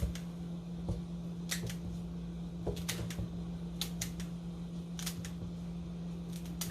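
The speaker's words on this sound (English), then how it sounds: "I find this, for me, so much easier doing it with these scissors." Sharp crisp snips of scissors cutting broccoli stems, a handful spaced irregularly over a quiet steady hum, each cut a brief bright click.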